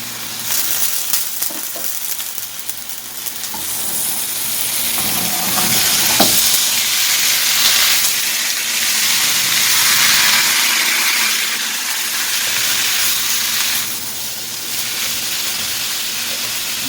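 Pork belly frying in a pan with golden-browned garlic, a loud continuous sizzle that swells and hisses steadily for a long stretch with no talk.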